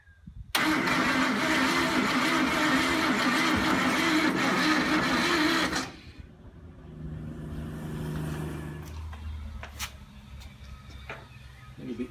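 A Ford Fairlane engine being revived cranks hard and loud for about five seconds with a rhythmic starter whir, then cuts off, leaving quieter rumbles, clicks and faint background sounds.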